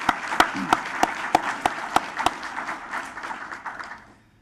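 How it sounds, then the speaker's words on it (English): Scattered claps from a lunchtime audience at a teacher of the year event: a few sharp, loud claps stand out at a regular beat over softer clapping, and it all fades to quiet near the end. "Let's give all of that group a big round of applause."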